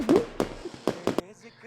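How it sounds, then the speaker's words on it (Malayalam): Firecrackers going off at the Puthucode village festival, several sharp separate bangs spaced unevenly with a voice talking between and over them. "പടക്കം പൊട്ടിക്കലും"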